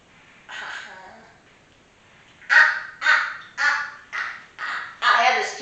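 People in a happy baby yoga pose imitate duck quacks with their voices: one drawn-out call, then a run of about six loud, evenly spaced honking quacks, close and clear.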